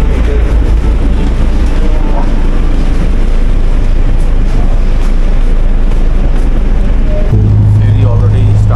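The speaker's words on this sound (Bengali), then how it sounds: "ফেরি অলরেডি স্টার্ট হয়ে গেছে" A ferry's engine rumbles loud and constant after leaving the terminal in the Maldives, with heavy low drone and wind buffeting the microphone throughout, and a deeper hum joining near the end.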